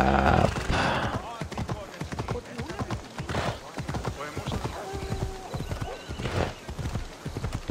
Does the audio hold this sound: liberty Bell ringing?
no